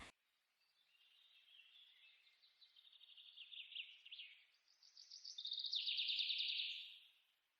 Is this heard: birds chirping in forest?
yes